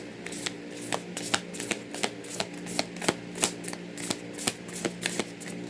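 Velvety-surfaced playing cards being handled and shuffled, a close, crisp series of flicking riffles and snaps in an uneven rhythm, with no voices.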